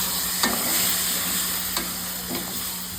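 Tomatoes tipped into roasted spices for a Rajasthani chutney sizzle steadily in a pan, with three brief scraping stirs of a spoon standing out over the constant frying hiss; no one speaks.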